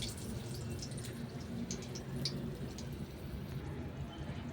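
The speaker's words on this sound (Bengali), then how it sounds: "এবার আদাটা চিপে রসটা দিয়ে দিলাম" Fresh ginger is squeezed by hand so its juice drips into lentil dal cooked with shiuli leaves and ash gourd, giving soft, faint squishing and a few light drips over a low steady background hum.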